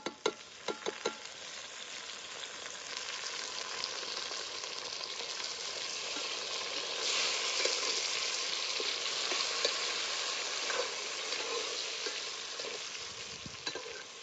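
Chopped tomato fries with onion and ginger-garlic paste in oil, an even crackling sizzle that swells midway, with a few sharp utensil knocks at the start and near the end.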